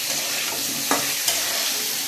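Potatoes and cabbage frying in a pan, a steady soft sizzle running throughout with two brief louder scraping stirs, close by and with no talking.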